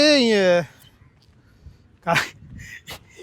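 A street dog gives a short high whine at the start, followed by a few faint snuffling sounds and soft noises nearby.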